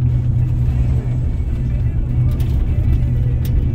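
A car travels a scenic road from Palisade to Grand Junction, Colorado, heard from inside as a loud, steady low engine and road rumble, with no talk.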